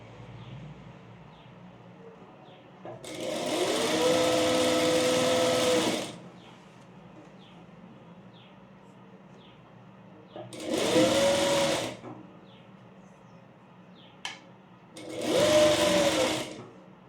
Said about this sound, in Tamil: இப்போ இதை நம்ம இப்படியே ஸ்டிச் பண்ண ஸ்டார்ட் பண்ணிடலாம்.